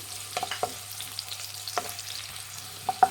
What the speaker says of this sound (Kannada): ಈರುಳ್ಳಿ ಫ್ರೈ ಮಾಡಿ.